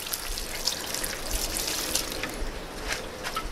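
Water trickles and splashes onto soil in a potted pomegranate plant, a close, steady pour with small irregular drips and spatters, no voices.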